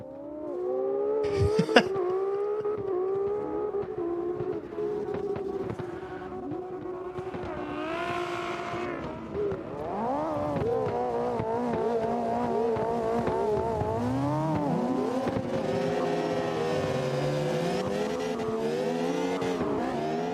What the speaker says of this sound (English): getting after it with the Miata here